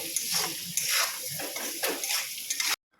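Potatoes stirred in a pan with salt and turmeric powder for a potato curry. Close, rhythmic scraping strokes run over a light frying sizzle, then stop abruptly.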